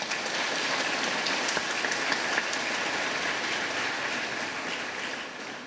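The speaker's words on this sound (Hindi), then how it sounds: "जोर से हम लोग ताली बजा देंगे" Congregation applauding inside Mae de Deus church in Goa during a Hindi Mass for the Karam festival, a dense, steady wash of many hands clapping that holds for several seconds before easing slightly.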